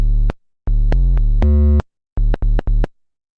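A synthesizer runs through a distortion pedal, giving bright, buzzy sustained tones with rich harmonics. They sound in short separate blocks: one note first, then a longer held group, then three quick stabs, with silent gaps between.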